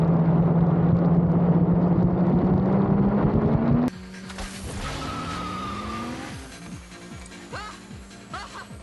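Roll race between a Toyota Cressida and a 1000HP Audi RS3: loud engines roar and rise in pitch as the cars accelerate, then a sharp cut to more distant, wavering engine sound with tire noise and brief crowd cheers.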